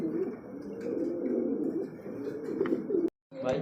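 Pigeons at a pigeon sale coo in low, repeated throaty murmurs close by, with a faint voice underneath, a brief silent gap, then cooing resumes.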